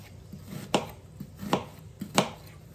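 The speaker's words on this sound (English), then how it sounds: "this is a easy way to chop an onion" Knife chopping an onion on a cutting board, three sharp, distinct strikes with softer taps between, close and clear, no voices.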